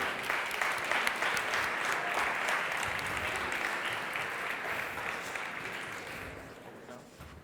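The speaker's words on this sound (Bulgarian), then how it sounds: "Аплодисменти, моля!" An audience at a lecture during the Teenovator 8 finale breaks into sustained applause, a dense wash of clapping that stays full and steady before easing off slightly toward the end.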